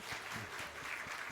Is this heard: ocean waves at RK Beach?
no